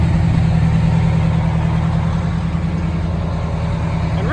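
A bus engine rumbles steadily at close range while towing a 1974 Dodge Monaco on a tow bar rig, a continuous low drone heard from behind the bus with no talk.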